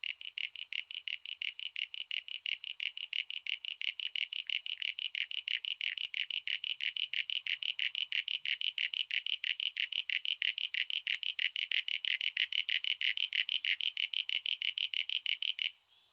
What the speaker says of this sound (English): And this is how frogs generally call.